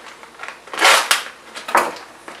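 A package of rice being torn and opened in a kitchen, heard as a few close crinkly plastic rips and rustles in short bursts, fairly loud, with no voice over it.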